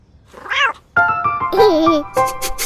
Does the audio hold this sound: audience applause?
no